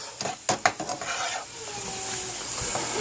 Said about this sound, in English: Remember, brown off the ground beef.